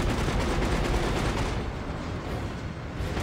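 A turret firing explosive ammo in Dead Space 3, a loud dense barrage of rapid booming shots that pounds on for about three seconds with a brief dip in the middle.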